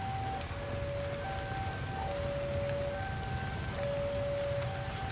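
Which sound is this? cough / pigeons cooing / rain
rain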